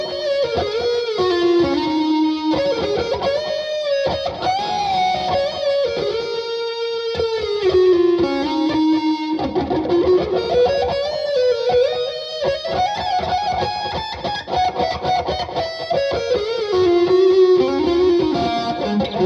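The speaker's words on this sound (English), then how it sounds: "So a couple more Strat tones, and then we'll switch to the Charvel Jake here." Fender Stratocaster electric guitar played through a Mesa Badlander 25-watt head with effects, a distorted, chorus-tinged lead line with sliding, sustained notes and bends played continuously and loud, no talking.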